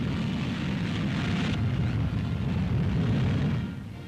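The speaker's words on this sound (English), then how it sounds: "At White Sands, New Mexico, the huge missile takes off." A captured German V-2 rocket lifts off at White Sands, New Mexico, producing a loud, continuous, broadband roar that holds steady for several seconds and then starts to fade slightly toward the end.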